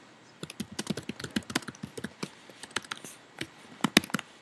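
Fast, uneven typing on a computer keyboard, close and fairly quiet, with clustered clicky keystrokes and brief pauses between bursts, no talking.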